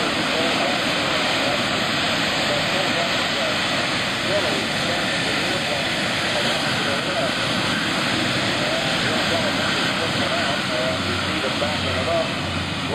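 A C-31 airplane roars steadily at an air show during takeoff, a loud continuous engine rush filling the scene, while someone talks over it throughout.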